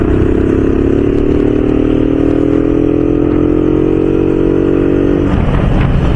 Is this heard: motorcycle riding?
yes